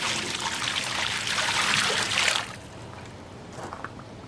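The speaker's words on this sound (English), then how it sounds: "And then add another gallon of water." A gallon of water poured onto a coir brick, a steady splashing trickle that runs loud and close for about two and a half seconds, then drops to a faint dribble with a few small drips.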